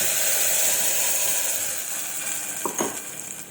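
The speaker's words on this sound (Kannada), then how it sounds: "ಇದು ಹಸಿ ವಾಸನೆ ಹೋಗೋವರೆಗೂ ಚೆನ್ನಾಗಿ ಇದನ್ನು ಫ್ರೈ ಮಾಡಬೇಕು" Ground masala paste fries in a pan with a bright, constant sizzling hiss that eases slightly over time, broken near the end by a couple of quick stirring scrapes.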